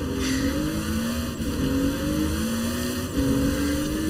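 A Toyota Supra 2JZ engine drones steadily in Forza Horizon 4, a continuous loud race-car hum with rising pitch sweeps as the car accelerates through gears, close and dominant throughout.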